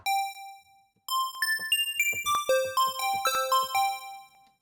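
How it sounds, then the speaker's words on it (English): Bell preset from a free synthesizer plugin plays a sequence of chiming, ringing tones, a single sustained note first, then after a short gap a quicker run of overlapping bell hits that ring out and fade. "So we've got bells there."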